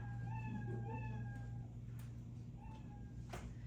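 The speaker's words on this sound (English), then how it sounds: "if you press any of your arrow keys, the cat is going to meow" Two quick meows, then another pair, from a cartoonish cat sound effect triggered by arrow keys over a steady low hum, with a couple of soft clicks between them.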